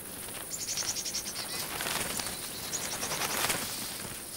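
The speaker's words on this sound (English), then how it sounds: "Flocks of sparrows arrive." A flock of sparrows arriving at a ripe wheat field, with dense overlapping high chirps and fluttering wings over a steady rustling wash, busy and continuous.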